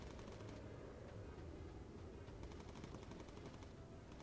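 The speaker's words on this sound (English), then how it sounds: "we're shooting down a good number of these enemy aircraft" Turret machine guns firing in Bomber Crew, a World War II bomber game, while shooting down enemy aircraft: a continuous rattling stream of rapid shots over a heavy low rumble, faint and unbroken throughout.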